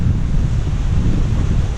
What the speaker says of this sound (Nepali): बाब्रे हावाको साउन्ड